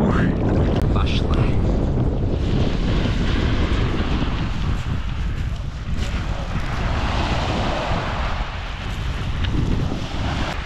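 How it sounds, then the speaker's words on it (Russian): Strong wind roars and buffets the microphone without pause at the sea in Kemer, Turkey, with waves or water churning beneath the gusts. "нам немножко с ветром не повезло, ветер сильно дует"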